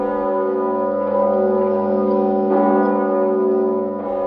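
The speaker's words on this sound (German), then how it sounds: "Da hör ich schreckhaft mitternächtiges Läuten, das dumpf und schwer die Trauertöne schwillt." A church bell tolls at midnight, loud, deep and heavy, ringing out about three strokes whose long humming tones overlap and sustain without pause.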